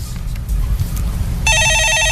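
A telephone rings in a stock-market call-in broadcast studio, a loud electronic trilling ringtone that starts abruptly after a stretch of low room noise and continues steadily.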